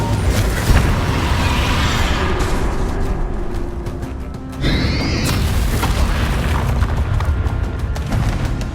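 A Bombarda spell goes off in Hogwarts Legacy during a castle battle, a loud booming blast over dense, continuous combat noise with rumbling low end and a rising whine midway.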